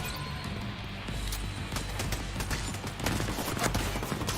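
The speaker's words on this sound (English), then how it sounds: "A lovely chain of explosions." Rapid string of sharp bangs and crashes in the video game The Division 2 on Xbox, a chaotic chain of overlapping explosions with rumbling underneath, continuing without pause.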